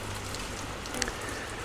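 Rain falls steadily in Pai, Thailand, a dense, even patter with no break, punctuated by one faint tick of a drop striking a surface.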